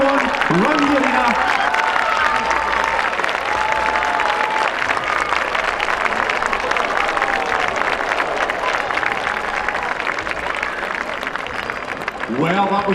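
A crowd cheering and applauding a running race final in the arena at the Braemar Gathering 2023, a loud, sustained roar of clapping and shouting that holds for the whole stretch, with a voice talking over it.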